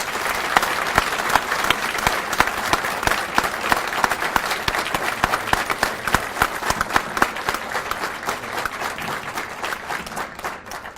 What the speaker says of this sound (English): Please join me in a round of applause as we honor those who played such a critical role.